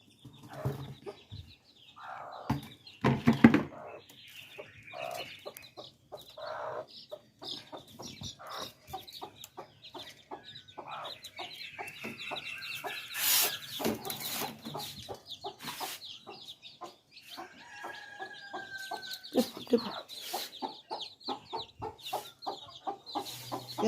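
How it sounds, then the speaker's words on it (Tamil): A small chick clucks and peeps repeatedly inside a large cage built for it in a garden, with frequent short calls and scattered chirps close by and no talking. "இப்போ பாருங்கள், நான் ஒரு கோழி குஞ்சு காமிக்கிறேன்."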